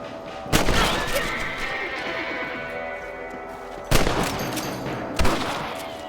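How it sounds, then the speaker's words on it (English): Gunshots in the Red Dead Redemption video game as rabbits are shot: three loud, separate reports with echoing tails, spaced a few seconds apart over a steady background of game ambience. "Better at shooting rabbits than outlaws"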